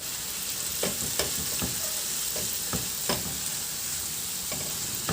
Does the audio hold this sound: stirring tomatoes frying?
yes